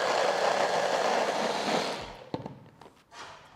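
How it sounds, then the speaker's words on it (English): A kitchen blender whirs loudly as it blends peanut satay sauce ingredients for a vegan satay, a steady motor roar that cuts off after about two seconds, followed by a few clunks and rattles. "Now let's blend this all together."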